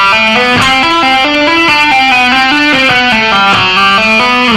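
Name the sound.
electric guitar lick with hammer-ons and pull-offs, slow tempo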